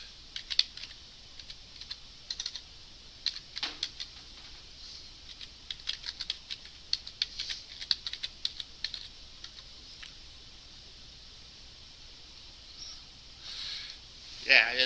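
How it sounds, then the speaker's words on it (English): Keys clatter on a computer keyboard in short irregular bursts, close and moderately loud, with pauses between runs and a few sharper taps near the end. "So I'll go here and type in localhost."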